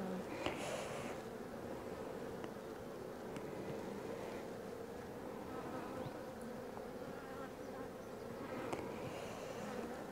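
Bees buzzing inside an opened beehive, a dense continuous drone of many insects close by for the whole stretch, with faint handling noises and no clear talk.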